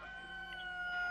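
A person mimics a rooster's crow with the voice, a single brief, faint, sustained tonal call lasting about a second, with no other talk.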